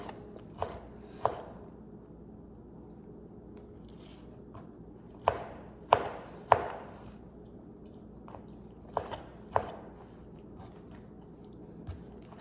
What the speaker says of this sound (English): I'm gonna cut this into smaller pieces